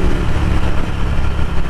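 Ducati Scrambler L-twin engine breathing through a Vance & Hines exhaust, idling up close with a deep, loud, lumpy rumble that pulses steadily throughout.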